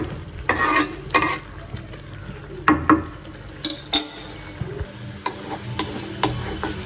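Shrimp sautéing in a pan with turmeric and chili, giving a low steady sizzle broken by several sharp clinks and scrapes of a utensil stirring against the pan, with no talking.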